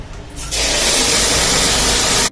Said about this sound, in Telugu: ఈ బియ్యంలో నీళ్లు పట్టేసి చేతితోటి బాగా పిసుకుతూ మూడు నాలుగు సార్లు బియ్యం కడిగేసుకోవాలి